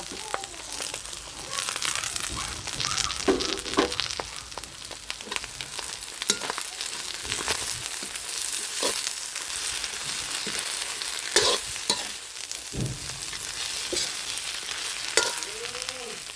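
Glass noodles and egg stir-fried in a hot pan, with a loud continuous sizzle broken by scraping, crinkling stirs and a few faint voices underneath.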